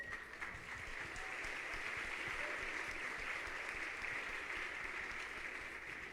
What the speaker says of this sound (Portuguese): Aplauda a vida do Morote.